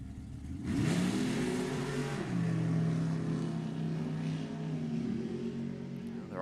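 Drag race final pitting a little old Chevrolet Monza against a big modern Corvette: loud, near engines roar with rising revving harmonics, holding a sustained howl through the run with a brief pitch dip midway.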